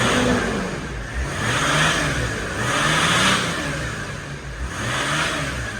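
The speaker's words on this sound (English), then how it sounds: "So if you pay attention, I will rev it up." A Sprinter van diesel engine revs up and settles back in repeated waves, a steady mid-pitched roar swelling and easing about three times over several seconds, close and continuous with no talking.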